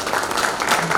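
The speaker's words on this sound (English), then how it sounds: "So a big round of applause to the two" An audience at a medical conference claps for its chief guests, a brief, even burst of crowd applause.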